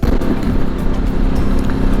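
A Ducati Multistrada motorcycle fitted with a Touratech L windscreen riding on a winter road with a little snow about, giving a steady, loud, continuous engine drone mixed with wind rush and no pauses.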